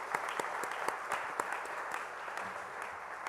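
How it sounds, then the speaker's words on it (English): An audience applauds at the Kappa Alpha Psi Fraternity's virtual 86th Grand Chapter Meeting with steady, fairly quiet clapping and scattered sharper claps, and no talk over it. "Let's give them all a round of applause."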